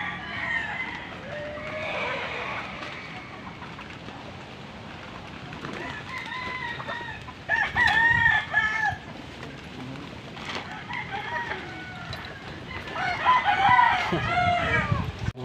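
A chicken clucking and crowing nearby over steady background noise, with louder bursts of calls now and then.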